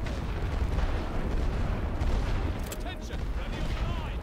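Artillery thunders across a World War I battlefield in The Great War: Western Front, a steady rumble of distant booms and rolling gunfire, dense and continuous, with talk over it.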